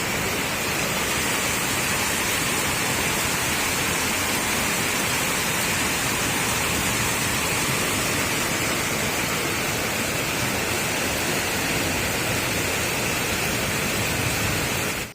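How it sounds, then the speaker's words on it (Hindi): Torrential rain pours down in the mountains as a dense, steady roar of broadband hiss that stays loud and unbroken throughout, with no voices. "और ऐसे मूसलाधार बारिश हो रही है ना"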